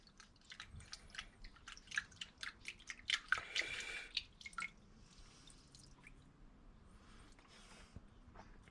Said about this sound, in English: I'm just going to wash them out in warm soapy water